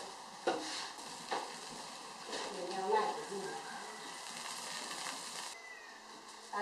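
Pork braises in a pot with a wild herb root in a rural kitchen, giving a faint sizzle and stirring clatter. Someone talks over the quiet cooking sounds, and a few sharp knocks of utensils stand out.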